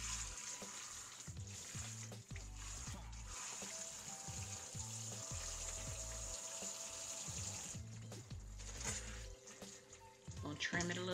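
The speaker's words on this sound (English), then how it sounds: "So we wash our duck with a little bit of vinegar and water." A duck being rinsed under a running kitchen tap after a vinegar-and-water wash, with steady splashing water and handling noises, while a person talks over it at intervals.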